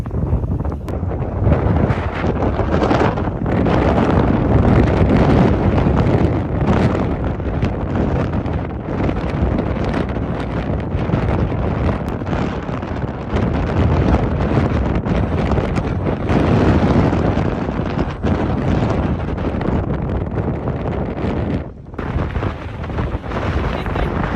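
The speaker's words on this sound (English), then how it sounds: "So it's so windy that I lost an AirPod." Strong gusting wind on a Naxos mountainside roars loudly and continuously against the microphone, with heavy low rumbling buffets swelling and easing throughout.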